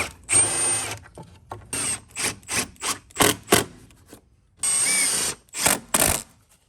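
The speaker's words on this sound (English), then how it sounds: "Let me grab the drill, put those in" A cordless drill drives five screws down into a subfloor while a curbless shower is framed into recessed floor joists, giving a string of short whirring bursts with two longer runs near the middle and end, close by, with no talk.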